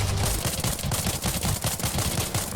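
Rapid gunfire in the space game Spacebourne 2, a dense continuous stream of loud shots in quick succession with no talking.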